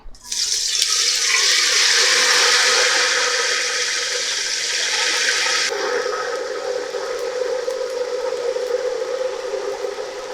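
Herbal oil pouring and straining through a filter, a loud continuous watery splashing and trickling stream that stays steady for about ten seconds, with a slight change in tone partway through.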